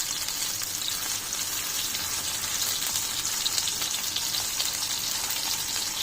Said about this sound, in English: flip them from side to side. And fry them on a medium flame